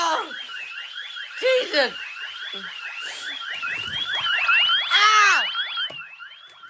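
A Ring Alarm first-generation siren wails loudly and continuously, its pitch sweeping up and down in a fast repeating pattern, while people shout and exclaim over it.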